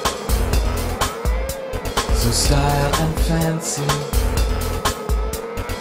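A car cruising along a favourite road, its low engine rumble and road noise steady throughout, with a voice singing or talking over it.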